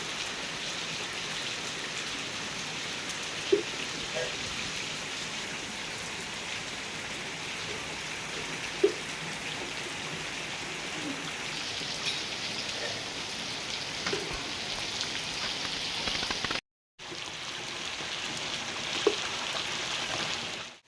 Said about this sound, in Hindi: ये देखो क्या मस्त बारिश लगी हुई है